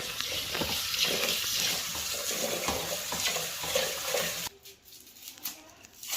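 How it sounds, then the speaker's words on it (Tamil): Running water hisses steadily for several seconds while rice is put to soak before a fish curry. It then cuts off, leaving a quieter room with a few soft knocks and clatters, close by and without speech. "இப்போ வந்து அரிசியை ஊற போட்டுக்கலாம்"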